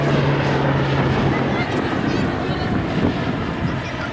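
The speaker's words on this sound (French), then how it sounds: "Au décollage, cet avion breton, qui va partir lui aussi, et c'est peut-être l'avion qui part le plus souvent" Loud, continuous roar of a Grumman military aircraft's engines during takeoff at a naval air base open day, sustained and near, with someone commenting over it.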